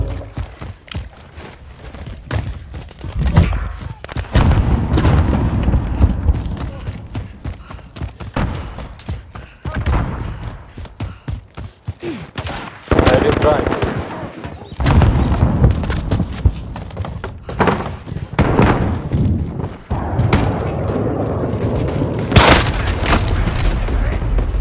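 Heavy booms and thudding blasts from cruise missile strikes in the Modern Warfare game, Team Deathmatch on the Aniyah Palace map, rumble loudly and repeatedly under scattered gunfire, with brief voice callouts mixed in.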